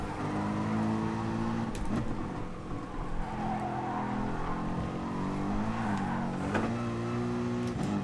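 A race car engine in Gran Turismo Sport drones and revs, its pitch rising and falling through gear changes at moderate volume, with no voices over it.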